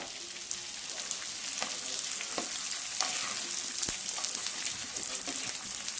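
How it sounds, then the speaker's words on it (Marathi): Edible gum (dink) fries in hot ghee, a dense, continuous crackling sizzle with scattered sharper pops and an occasional faint clink, fairly quiet and steady throughout. "डिंक तळून घेऊ।"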